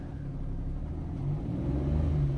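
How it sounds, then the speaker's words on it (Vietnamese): A used Chevrolet Spark's engine idles with a low, even rumble that swells slightly as the throttle is pressed, heard close and alone. "em sẽ nổ máy lên, em lên ga cho các bác"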